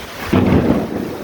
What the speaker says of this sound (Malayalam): അതിൻ്റെ കൂടെ തന്നെ നല്ല മഴയും നല്ല ഇടിയൊക്കെ ഉണ്ട്.